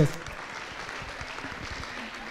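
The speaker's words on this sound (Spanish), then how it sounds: "Un aplauso a los hombres también" Light, scattered applause from a small group continues under a speaking voice, fairly soft and a little distant.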